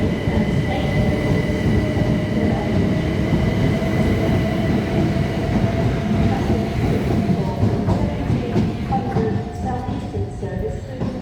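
A Class 377 electric train rolls through Ashford International station with a loud, continuous rumble and faint wheel squeal, close by and steady before easing slightly at the end.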